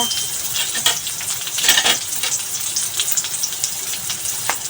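Garlic and ginger fry in a hot pan, giving a steady close sizzle and crackle with brief stirring scrapes throughout; no talking.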